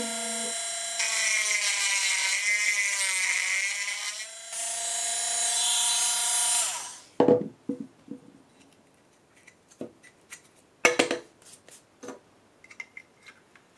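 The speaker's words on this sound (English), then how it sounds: "We'll do that with our Dremel." A Dremel rotary tool cuts into a plastic smart plug housing with a loud high whine over several seconds, then pauses and is followed by scattered clicks and handling taps.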